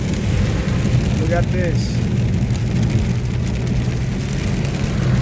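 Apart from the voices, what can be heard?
rainstorm on a highway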